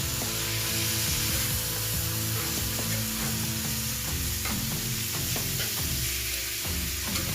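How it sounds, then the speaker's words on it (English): Onions and meat frying for carne guisada, a loud, continuous close sizzle with stirring scrapes and clatter throughout. "Mix it up for a little bit."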